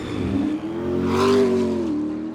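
McLaren Hyper800 supercar pulling away and accelerating, a steady engine note rising in pitch and loudness before leveling off, close and continuous with no talk.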